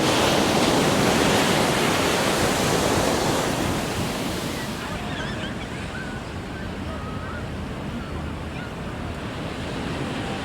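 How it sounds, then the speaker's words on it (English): Ocean surf breaks on a Cape Town beach in a loud, broad, continuous roar that eases to a softer wash after a few seconds, with wind buffeting the microphone. "And that is the ocean."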